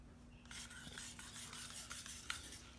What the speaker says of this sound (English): so you want to give it a good stir.